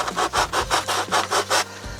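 Sanding material off a part by hand, a repeated back-and-forth rasp in about seven even strokes, near and clear with no talking.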